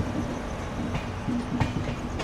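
A Karnataka Sampark Kranti Express pulling out of Hubli station, with steady rail rumble and wheel clatter rising in a continuous loud wash, heard from on board.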